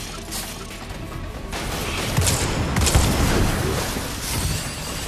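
Shotgun fire in the VR video game Stormland comes as heavy, rapid blasts and crashing impacts, loud and dense over a busy game soundscape.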